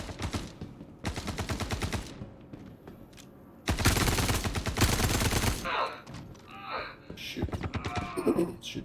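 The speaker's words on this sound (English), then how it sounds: "Shooting my guys in the back, are you?" Rapid bursts of automatic gunfire from a shooter video game come in sharp volleys, with short pauses between them and quieter effects filling the gaps.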